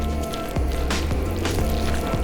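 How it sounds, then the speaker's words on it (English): Chopped celery tipped into a bowl of seafood pasta salad with crab and shrimp, a few soft squishy thuds and wet clicks close up, with no talking. "Gonna go ahead and add the celery."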